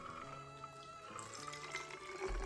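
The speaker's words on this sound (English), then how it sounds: "I'll be able to pour the cocktail into the spray bottle" A cocktail poured through a funnel into a spray bottle, heard as a close, steady trickle of liquid with a rising gurgling pitch as the bottle fills, ending with a low thud.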